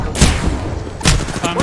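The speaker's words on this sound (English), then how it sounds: "That's the one that was on the roof shooting at y'all." Bursts of gunfire in a ranked online shooter match, with two loud volleys about a second apart over steady game ambience and sporadic chatter from players.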